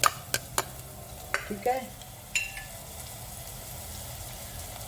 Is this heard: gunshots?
no